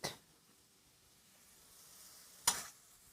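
Garlic hitting a hot pan and sizzling, a short sharp burst of frying hiss near the start and again just before the end, with a faint crackle in between and no talk.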